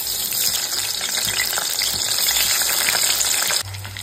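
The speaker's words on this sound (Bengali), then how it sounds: "আলুটা হালকা করে ভেজে নিচ্ছি" Potato pieces coated in salt and turmeric lightly frying in mustard oil: a loud, dense, continuous sizzle sounds close up, with stirring scrapes, and drops suddenly to a quieter hum just before the end.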